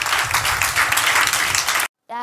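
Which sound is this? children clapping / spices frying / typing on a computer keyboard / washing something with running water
children clapping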